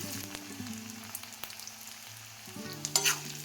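Steady sizzling and crackling of onions frying in a hot pan, with occasional scrapes of a spoon stirring, close up and continuous.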